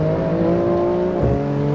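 A BMW M4 G82 Competition engine in the racing game Assetto Corsa on the Nordschleife holds a loud, steady, close harmonic drone, then briefly dips and shifts pitch near the end, with no talking.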